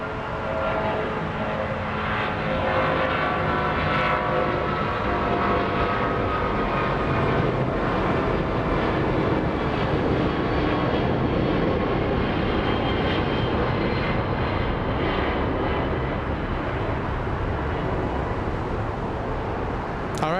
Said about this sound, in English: There goes the 7, the 777 American Airlines.